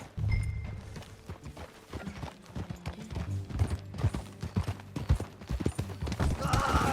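Horse hooves clip-clop at a steady trot or gallop in the Red Dead Redemption 2 video game, moderately loud and rhythmic over a soft background, with a brief whinny near the start.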